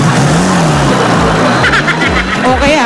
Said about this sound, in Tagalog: Ayun na yung motor.